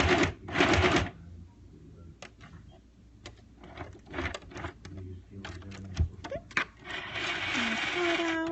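A sewing machine stitching fabric for a homemade fabric Dori cover, running in short mechanical bursts with pauses between them as it backstitches and sews forward, close by.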